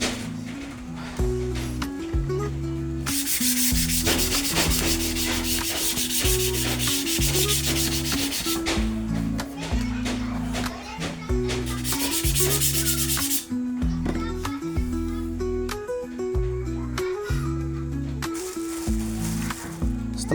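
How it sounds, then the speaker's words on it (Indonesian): Sandpaper rubbing steadily over a length of bamboo being smoothed for a Sundanese suling flute, a close, continuous scratchy rasp in repeated strokes with a tonal melody playing underneath throughout. "saya akan mengamplas bambu agar permukaan bambu ini menjadi lebih halus"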